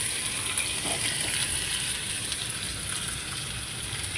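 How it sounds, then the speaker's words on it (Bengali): Vegetables dropped into hot oil sizzle and crackle in a steady, loud broadband hiss that holds evenly throughout, with no talking. "এই দেখো, তেল গরম হয়ে গেছে, এই সবজিগুলো দিয়ে দিচ্ছি"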